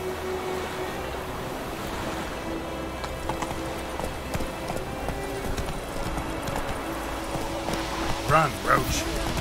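In a video game, the horse Roach gallops in a rhythmic clip-clop over a windy, surf-like background. Faint game sounds sit behind the hoofbeats, and a brief burst of other noise comes near the end.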